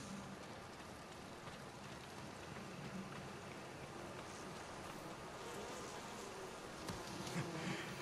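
Bees buzzing in the Ghost of Tsushima video game, a continuous dense insect drone filling the scene evenly from start to finish, with a light patter like rain beneath and no talking.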